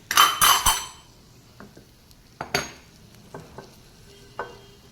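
A spoon scrapes and clinks against a pot as chopped tomatoes and salt are stirred into cooked dal, giving a cluster of clatters at the start and scattered taps afterwards, with a soft sizzle underneath and no voices.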